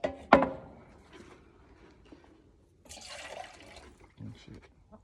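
Water sloshing and splashing as a chicken waterer is dumped and rinsed out outdoors, a brief splash then a longer rushing pour midway, with someone speaking over it.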